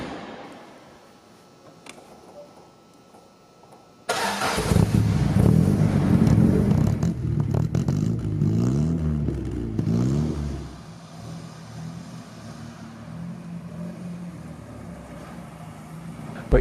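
An MGA Twin Cam sports car engine starts up quiet, then roars loudly as it accelerates while driving, revs rising and falling before settling into a steady cruising drone.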